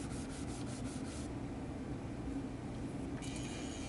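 An abrasive tool grinds across the steel face of a scrap-steel post anvil in a continuous rough, gritty rasp. A brief rhythmic pulsing comes at the start and a higher whine at the end, with no one talking.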